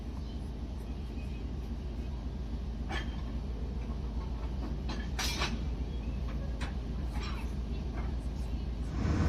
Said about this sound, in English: our mainline locomotive is then attached to the consist, which will then pull us as far as the Moldovan border town.